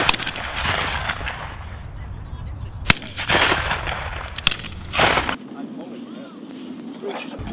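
Shotgun fire at a clay pigeon shoot: sharp, loud reports ring out several times, with two standing out clearly amid steady outdoor background noise and speech-like sound before things quieten.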